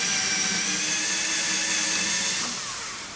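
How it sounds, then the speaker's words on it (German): A cordless drill at slow speed with a larger bit drills out pop rivets in a Dacia Sandero Stepway II, a steady close whirring grind that winds down at the end. "Und wir brauchen einen Akkuschrauber. So, größere Bohrer, langsame Umdrehung"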